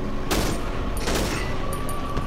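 Pistol gunshots in the horror game Cry of Fear, two sharp loud bursts about a second apart with short ringing tails, no talk over them.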